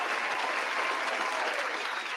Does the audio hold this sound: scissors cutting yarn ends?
no